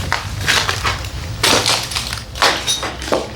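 Broken glass crunching underfoot on the floor of an abandoned hospital, a series of irregular gritty crushing steps, close and fairly loud, with no talk.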